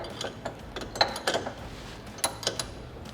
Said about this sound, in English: completely tighten the bolt that secures our bracket to our kicker